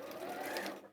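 A close LNA550 sewing machine hums steadily as it stitches, a short continuous mechanical whir with a faint rhythmic needle pulse and no talk.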